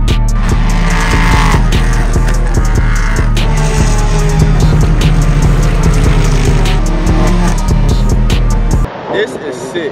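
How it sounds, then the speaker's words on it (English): BMW race cars pass along a race track at a car meet, their engines droning loud and steady at close range for most of the stretch before the noise cuts away near the end, with voices mixed in. "So we got the BMWs coming through right now."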